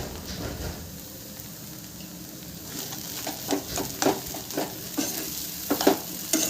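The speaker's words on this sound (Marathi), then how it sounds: "मीठ आता एकजीव करून घेऊ मस्त।" Salt being stirred into a potato paratha filling in a pan, a spoon scraping and turning the mash in steady strokes over a soft sizzle, the scrapes growing louder and more frequent toward the end.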